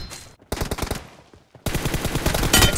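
Rapid bursts of automatic gunfire from a team deathmatch video game, loud and close, in two dense volleys separated by a brief near-silent pause.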